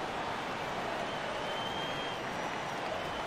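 A steady, distant roar of arena crowd noise and applause for the Nuggets mini dance team during a timeout at a basketball game against Memphis, even and unbroken throughout.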